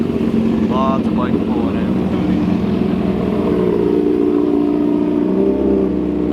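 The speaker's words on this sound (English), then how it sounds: "Here's some more bikes pulling in." Several motorcycles roll into a parking area on a sunny day, their engines a steady, loud rumble that fills the whole stretch without pause, with a brief higher whine rising near the start.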